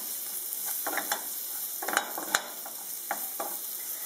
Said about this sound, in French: Et là on fait simplement sauter.